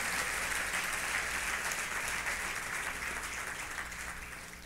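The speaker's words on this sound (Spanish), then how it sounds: "Dele fuerte el aplauso al Señor." Church congregation applauding during a Christian service, a steady wash of many hands clapping that holds loud throughout and fades slightly toward the end.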